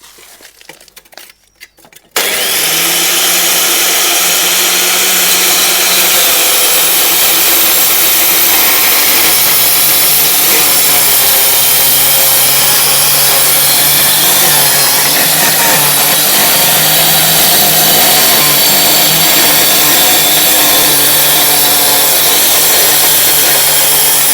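A power cutter slices through floor tiles, starting with a few short bursts, then settling into a loud, continuous grinding whine that runs unbroken and close.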